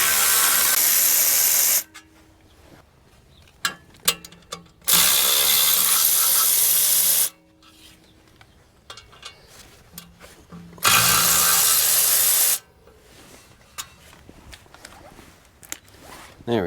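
A power tool unbolts three 8mm bolts on the wheel hub of a Ford F150 pickup truck. Three loud, sustained bursts of high-pitched whirring each last a couple of seconds, with clinks, rattles and handling noise between them.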